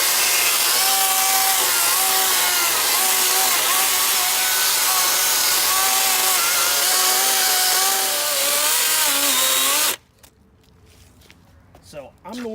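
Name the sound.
DeWalt FlexVolt 60V cordless brushless chainsaw cutting wood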